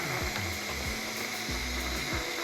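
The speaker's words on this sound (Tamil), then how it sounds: "ஸோ ப்ரெஷர் ரிலீஸ் ஆகுதா? அப்படியே அமுத்திட்டே இருங்க." A pressure cooker holding cauliflower releases its steam in a steady, loud hiss that rushes on throughout, with low irregular rattling and thumps underneath.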